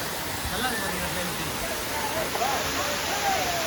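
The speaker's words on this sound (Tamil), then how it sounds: "ஸோ மெயின் ஃபால்ஸில் நல்லா தண்ணி வருது," Water roars continuously from the main falls at Courtallam, a broad steady rush heard up close, with a faint whistle-like tone and scattered voices in the background.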